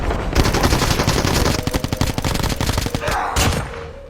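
Gunfire in the mobile shooter Call of Duty Mobile rattles out as a loud, rapid automatic burst lasting several seconds, then ends with a couple of final shots.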